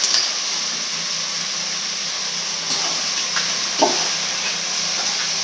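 Shrimp frying in a pan for a shrimp curry, a steady hiss and sizzle throughout with a few small clinks and stirring touches, fairly close and alone without speech.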